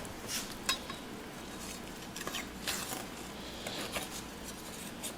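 A spatula scrapes and clinks against a pan of purple sweet potatoes in a few quiet, irregular strokes, close by and soft, with no talking.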